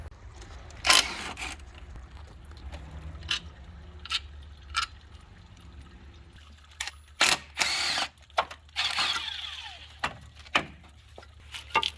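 A power tool works on a power steering pump pulley on a Squarebody truck being stripped as a donor for an LS swap, giving short bursts and whirs, with clanks and handling noises in between and steady background hum.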